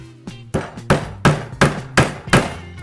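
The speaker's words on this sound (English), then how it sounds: "Hit the nail proud into the wood." A hammer taps a nail into wood: about seven crisp, evenly spaced strikes, close and loud, each with a short ringing decay.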